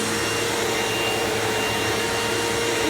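A Hoover Elite Rewind Deluxe upright vacuum cleaner motor whirs at a constant, loud pitch on a thin rug, running steadily and close by with no other sounds.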